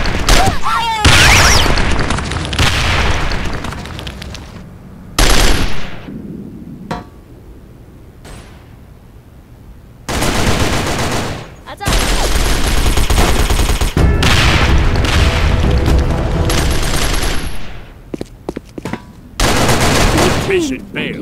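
Explosions and bursts of gunfire from the online shooter game Sudden Attack, loud and dense, with repeated blasts and rapid fire separated by short lulls and a few clinks.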